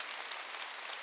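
A church congregation claps in a brief, soft patter of many hands, heard from a distance and fading quickly.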